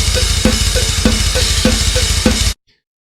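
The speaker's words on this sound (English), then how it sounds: "he recorded his drums playing through the set list with one microphone" Live black metal drums captured with a single overhead microphone plus triggered kicks: relentless rapid kick pulses under washy cymbals and sharp snare hits at a steady beat, loud and raw, stopping abruptly.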